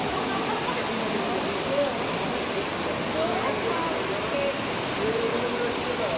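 Steady, heavy rush of floodwater pouring down from a hill in Ecatepec, Mexico, fills the clip, a constant broadband roar like a downhill torrent, with faint voices under it.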